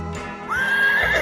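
A horse in Minecraft gives a loud, close whinny lasting about a second, with a rising then wavering tone. No one speaks.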